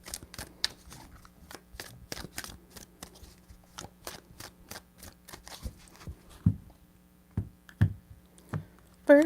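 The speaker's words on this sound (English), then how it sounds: "Three shuffles." Tarot cards being shuffled by hand in three separate bursts, each a quick run of crisp riffling and tapping clicks, close and fairly quiet, with no talking over them.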